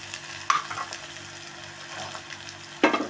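Ginger garlic paste, onion and green chillies frying in a pan, a soft steady sizzle broken by two sharp stirring clatters near the start and end, with no speech.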